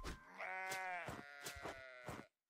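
Sheep bleating in a house-building video game set in a Wild West build: a long, loud wavering bleat followed by several shorter repeated bleats, close and clear with no talk.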